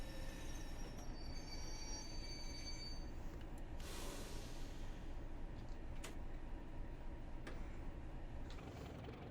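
In the Train Simulator Classic game, a steam-era train waits at a 1950s–60s station on the Stour Valley Railway, giving a steady low rumble and hiss with high squealing tones early and a brief burst of noise partway.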